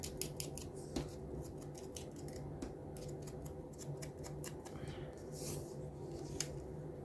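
Scissors snip through paper and card for a unicorn and rainbow journal, a quick run of sharp close clicks in an uneven rhythm over faint background hum.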